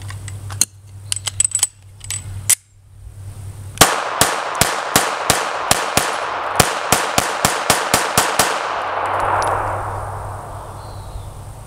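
A Ruger Security 380 pistol fires a rapid string of sharp, loud shots, roughly a dozen closely spaced reports after a few scattered earlier bangs, with clicks and handling noise in between.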